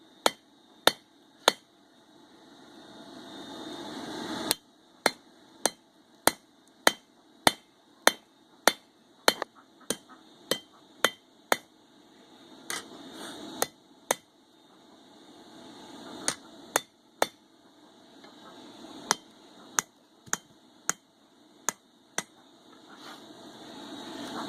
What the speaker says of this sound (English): there isn't much to see except hammering